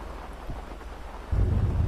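Rain falls steadily in a GTA 5 game scene, then a low rumble of thunder swells in near the end, heavy and close beneath the constant hiss.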